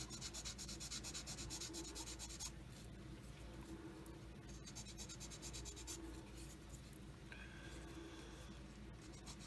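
A small plastic part from a Tamiya 1/48 F-51D Mustang model kit is sanded with steady, close, soft rubbing strokes, continuous and alone for several seconds.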